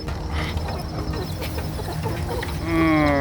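Hens cluck inside a spacious backyard chicken coop at a home, a steady close murmur of bird calls that swells into a louder, drawn-out squawk near the end.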